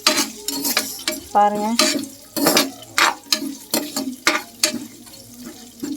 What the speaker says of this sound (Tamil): பார்த்திங்கன்னா 2 பச்சை மிளகா அதையும் போட்டு நல்லா லைட்டாக வதக்கி விட்டுருங்க